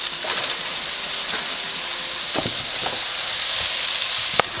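Two 9-ounce bags of washed broccoli sizzle and fry in olive oil in a one-pot pan, a steady crackling hiss with a few sharper pops and clatters as the florets settle.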